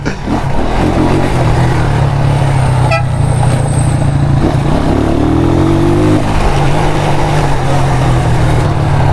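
Motorcycle engine revving hard on a city street, a loud sustained drone with a rising rev near the middle, plus a short horn toot partway through amid traffic.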